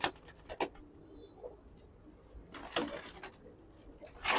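Pigeons in a loft, a flock being sorted with some birds set aside, give soft, scattered coos and rustling over a low background, with a few sharper bursts of wing flutter or movement near the start and end.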